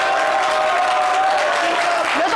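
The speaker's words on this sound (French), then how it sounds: "on va l'applaudir bien fort" Studio audience applause on a French television talk show, dense even clapping from a crowd that fills a couple of seconds, with a tonal hum running beneath it.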